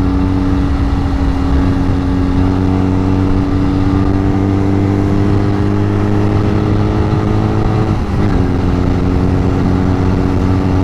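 Engine of a Honda 125 Rebel bobber motorcycle while riding, a loud continuous droning hum with steady tone and a brief shift near the end, close and without talk.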